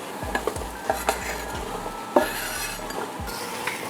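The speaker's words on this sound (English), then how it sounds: "Give them a good stir. And we'll let those fry off for a couple of minutes." Turnips frying in a pot for Persian aash are stirred with a utensil, giving rhythmic scraping strokes and light clinks against the metal over a soft background sizzle, close and without talk.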